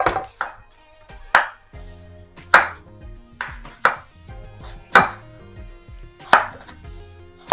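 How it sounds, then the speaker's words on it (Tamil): A knife chops capsicum and carrot into long strips on a board, about nine crisp, separate thuds at an even, unhurried pace. Loud and close, with quiet between strokes and no voices. "இந்த மாதிரி நம்ம கேப்சிகம், கேரட்டு எல்லாமே நீளமாக ஸ்ட்ரைப்பாக கட் பண்ணி"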